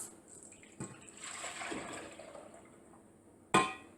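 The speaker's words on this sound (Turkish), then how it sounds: "bir tencereye sütümüzü alıyoruz" Milk pours steadily into a pot with a soft, hollow splashing, quiet and close, ending with a sharp clink.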